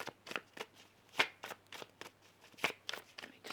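Tarot cards shuffled by hand for a reading, a quick run of crisp riffling bursts in a steady rhythm, close and fairly quiet, with no talking.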